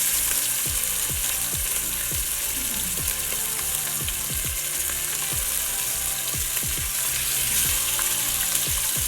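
Chicken pieces browning undisturbed in a hot, well-filled frying pan for a chicken stew, giving a steady close sizzle with scattered crackles and pops throughout.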